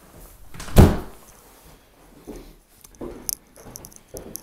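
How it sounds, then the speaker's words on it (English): A keyed interior door by a stairwell in a house swings shut with one loud, close thud, followed by quieter footsteps and small knocks in a room. "Just going to close the door there."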